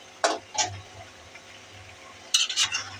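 Stirring bottle gourd and egg curry in a pan: a few scraping, clinking spoon strokes against the cookware at the start and near the end, with a faint low sizzle between, close and fairly quiet.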